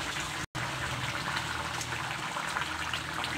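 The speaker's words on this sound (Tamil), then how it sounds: "குழம்பு நல்லா கொதிச்சிச்சு" Steady, dense bubbling of karuvattu kulambu, a Tamil dried fish curry, boiling in a pot, close and continuous with a brief dropout near the start.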